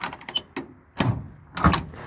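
An aging 1980 Ford's car door with worn hinges is worked open, giving a few separate clunks and latch rattles spread over two seconds, fairly quiet and close by.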